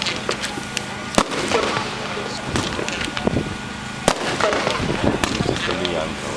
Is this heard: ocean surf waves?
no